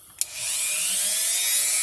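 A Dremel rotary tool spins up after a sharp click and settles into a steady high-pitched whine while cutting a Nerf Longshot blaster part, close and continuous.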